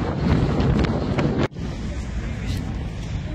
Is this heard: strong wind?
yes